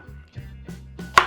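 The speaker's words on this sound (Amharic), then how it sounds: "ቀጣይ ስራችን የሚሆነው ደግሞ ዝንጅብል መክተፍ ነው።" Ginger being chopped with a knife on a board, three or four quick, crisp thuds in a short burst, close and alone.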